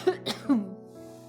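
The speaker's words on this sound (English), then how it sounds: "I'm gonna cough again." A single person coughs, two short harsh bursts close up, followed by a brief throat-clearing tail and quiet.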